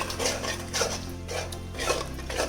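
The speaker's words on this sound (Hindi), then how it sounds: "अब अच्छे से इन सबको मिक्स कर लेते हैं। 2 मिनट इसको हम लगातार चलाएंगे" Chicken being stirred in a pot with yogurt and spices for a white degi chicken pulao, with soft scraping and clinking of a spoon against the metal in a steady repeating rhythm, close and fairly quiet.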